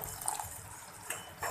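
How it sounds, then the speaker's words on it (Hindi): Water splashed into frying besan masala with tomatoes, chili powder and garam masala, giving a few brief, soft wet spatters and a faint hiss, quiet and close, with no talking. "थोड़ा सा पानी का छींटा लगाऊंगी"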